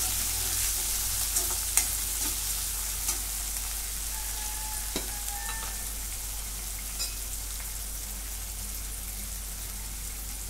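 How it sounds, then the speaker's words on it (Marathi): Chopped tomato and onion sautéing in a pan for a green pea curry, a steady soft sizzle with occasional stirring clicks and scrapes, close and continuous with no talking. "टोमॅटो पण परतून घेते"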